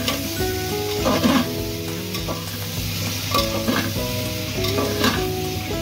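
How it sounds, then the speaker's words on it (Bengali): Chunks of papaya, potato, onion and carrot sizzle loudly in a pan while being stirred, with steady frying crackle and repeated scraping strokes throughout. "এর মধ্যে আমি পেঁপে, আলু, পেঁয়াজ আর গাজর সব একসাথে দিয়ে দিলাম"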